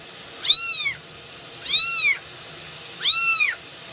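Very young bottle-fed kittens meow during a bath, three clear rising-and-falling cries spaced about a second apart, close and fairly loud with no talking.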